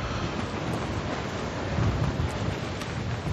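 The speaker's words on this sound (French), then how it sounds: "Alors qu'il y a de plus en plus de vent, il y a des rafales." Strong gusts of wind roar steadily across the microphone at an outdoor pétanque match, a dense rushing noise with no voices.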